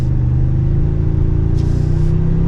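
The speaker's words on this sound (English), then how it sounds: "Now we have the twin turbo V6, but I think it sounds great." A 2024 Toyota Tundra 1794 TRD Offroad pickup's twin-turbo V6 rumbles steadily as it accelerates, a deep mid-range drone rising slightly in pitch, heard from inside the vehicle.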